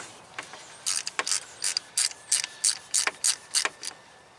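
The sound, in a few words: ratchet with 10mm magnetic socket removing camshaft sensor bolt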